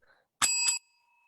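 A single bright bell ring, used as a time signal for a speaker at an asteroid-search talk, with two quick strikes close together that cut off after a moment, ringing clearly in a quiet room.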